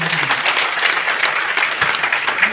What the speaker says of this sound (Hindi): कम से कम उनके लिए जोरदार ताली